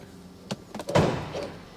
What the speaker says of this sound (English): should we have a look under the bonnet?